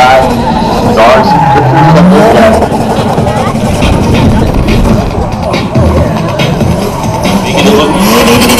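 Drift cars skidding hard with loud tire squeal and revving engines close by, the screech sweeping up and down over a constant roar, with voices mixed in.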